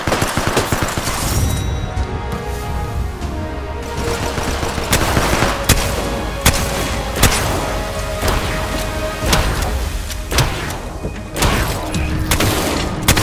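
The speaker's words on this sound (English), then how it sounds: "Stop, I'm getting shot at." Dense, continuous gunfire from an Apex Legends fight inside a tunnel, with rapid overlapping bursts and sharp repeated shots, loud and close throughout the whole stretch.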